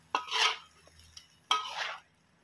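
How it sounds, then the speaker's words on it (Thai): Spaghetti being stir-fried and tossed in a pan with salted egg sauce makes two short bursts of scraping, clattering cookware noise, close up, with a quiet pause between them. "ใส่เส้นลงไปครับเส้นสปาเกตตี้นะครับ แล้วก็ผัดคลุกเคล้าไปเรื่อยๆเลยครับผม"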